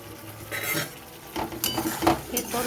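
Drumstick curry with fried lentil dumplings stirred in a pan, with a few irregular spoon scrapes and knocks against the metal over a soft sizzle, close and moderately loud.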